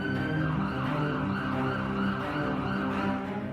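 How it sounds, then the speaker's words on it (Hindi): Sirens wail continuously across a city in Taipei during wartime civil-defence drills, a steady layered tone holding at moderate level throughout. "शहर में सायरन का शोर रह रहकर सुनाई दे रहा है।"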